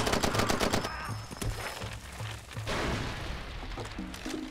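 An ammunition depot blows up during a Far Cry 2 game session, with dense rapid gunfire and cracking bursts over a rumbling, sustained roar of explosions, loud throughout with brief thumps.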